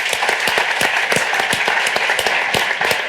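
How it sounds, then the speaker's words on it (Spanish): Live audience applauding at a Spanish talk event, dense clapping with distinct sharp claps standing out, steady and fairly loud for about three seconds with no speech. "Un aplauso para ella."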